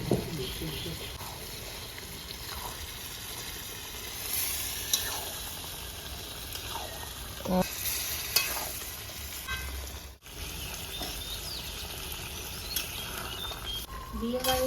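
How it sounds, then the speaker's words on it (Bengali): Chicken stirred and frying in oily onion gravy, with a little water added, gives a continuous loud sizzle and bubbling, broken by occasional scrapes of a spoon against the pot throughout. "গ্রেভিটা তেল ছেড়ে দিয়েছি একটু হালকা জল দেবো চিকেনটা দিয়ে দেবো"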